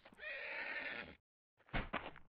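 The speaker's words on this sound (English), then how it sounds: "He's a noisy zebra, man." A zebra in the survival video game Survivalcraft gives a loud, close, sustained neigh, followed after a short pause by a second, shorter burst of whinnying, with no speech over it.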